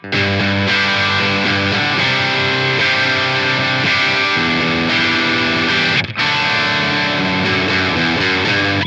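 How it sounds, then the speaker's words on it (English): Electric guitar played through a combo amp plugin tone with light gain, loud and close, with sustained chords and ringing notes that continue almost without a break and have a slight crunchy edge. "We can switch over to full, which is kind of like a combo sound that's got a little bit of gain to it"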